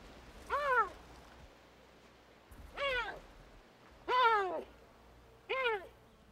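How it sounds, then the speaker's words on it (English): A cougar mother calls to her five-week-old kittens with four separate bird-like chirping mews, each a short rising-and-falling cry spaced a second or so apart, fairly close over a quiet outdoor background. "their mother uses a specific sound to call the kittens"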